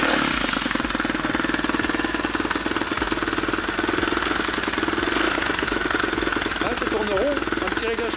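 A Rieju CRZ 250 motorcycle with a faulty carburettor runs steadily after starting, a loud, close, rapid rattling engine note that holds even throughout.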